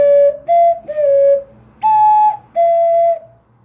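An ocarina plays a melody from Zelda as five clear, breathy whistled notes with short gaps between them, each note held steady, close and loud with no talking.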